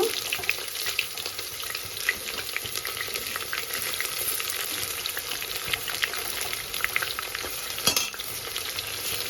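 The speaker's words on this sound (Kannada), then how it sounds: "ಈರುಳ್ಳಿ ಇಟ್ಕೊಂಡಿರೋದನ್ನು ಹಾಕೊಂಡು ಚಿಕ್ಕ ಚಿಕ್ಕ ಗಾತ್ರದ್ದು ನಾಲ್ಕು ಈರುಳ್ಳಿ" Four small chopped onions fry and get stirred in a pan for avarekalu pulao, giving a steady close sizzle with soft scraping strokes throughout, fairly quiet, with no voices.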